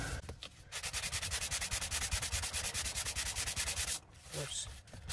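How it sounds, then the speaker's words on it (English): A hand-made sanding stick rubs back and forth on a plastic model part, a fast, even rhythm of close, loud raspy strokes for about four seconds, then a brief pause and a few more scrapes. "Use the sanding stick that fell off"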